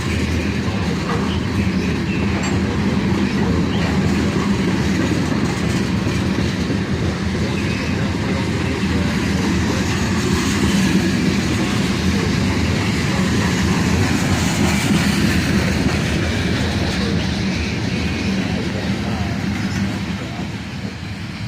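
A train rolling past on rails at a four-train meet, a loud continuous rumble with clattering wheels and faint squeals that holds steady throughout before easing slightly at the end.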